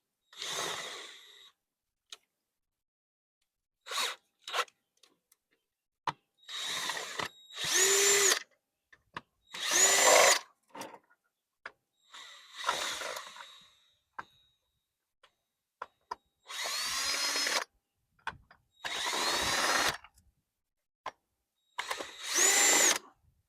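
A power drill-driver backs T25 star-head screws out of the housing of an automatic dual gate opener, sounding as a string of short whirring bursts separated by pauses, close and fairly loud, with no voices.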